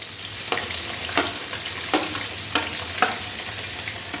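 Onion, ginger, garlic and coconut fry in a pan for a Kerala-style chicken curry, giving a steady close sizzle with a few sharp crackles and stirring scrapes spaced through it, and no talk.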